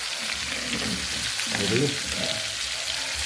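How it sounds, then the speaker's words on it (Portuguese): Bone-in pork leg fries on a home stove, a steady close hiss and crackle of hot oil with brief stirring. A voice speaks once, quietly. "E aqui é o pernil de porco com osso, né? Estou fritando aqui no fogão, ó."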